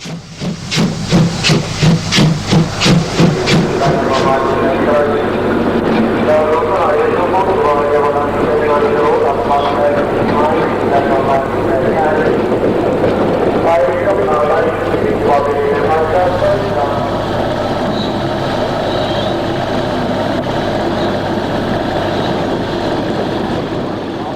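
An East German steam locomotive, number 012137, runs into a station to couple to a train, with loud rhythmic exhaust chuffs at first, then a sustained roar and hiss of steam as it draws near, while a narrator speaks over it.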